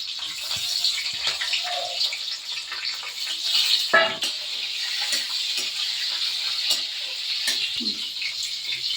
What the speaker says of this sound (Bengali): এখানে আমি ফোড়নটা দিয়ে দিলাম সব কটা ফোড়ন এখানে দিয়ে দিলাম